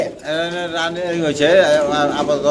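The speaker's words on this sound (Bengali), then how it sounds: "জার্মান শিল কবুতর রেড কালারের মধ্যে হ্যাঁ, খুব চঞ্চল খুব চঞ্চল না হ্যাঁ। এই কারণে এমন উড়াউড়ি করতেছে" Red German shield pigeons coo softly beneath close, steady human talk, their calls blending into the voices throughout.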